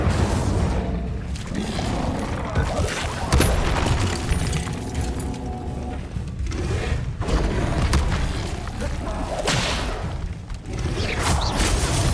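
Incendio fire spell being cast in Hogwarts Legacy, a loud, dense rush of booming, roaring fire and thuds that stays steady throughout with no talking.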